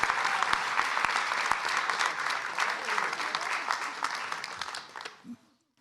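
An audience claps for a congresswoman at a political gathering of labor supporters, sustained applause with a few sharp nearby claps standing out, tapering off and stopping near the end.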